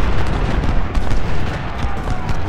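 Heavy cannon fire from the coast rumbles in a dense, continuous barrage during a Civil War battle at Shiloh in the strategy game Ultimate General: Civil War, loud and unbroken with no clear gaps.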